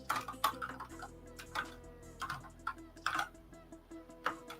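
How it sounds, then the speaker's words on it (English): Fast typing on a computer keyboard during Python coding, close, steady irregular clicking of keys with frequent sharper strikes and a faint low hum underneath. "what's wrong with my typing now?"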